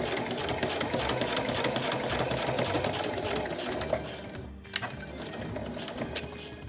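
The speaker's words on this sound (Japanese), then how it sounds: "この押さえの端を布端に合わせるようにして縫いましょう。" A sewing machine stitches fabric along the edge of the presser foot while a card case is sewn, giving a continuous fast mechanical whir with rapid needle clatter, close and steady, pausing briefly near the end.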